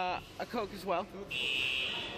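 A fire alarm sounds indoors at a casual gathering: people chat over drink orders, then a steady, piercing electronic tone starts partway through and holds loud and unbroken to the end.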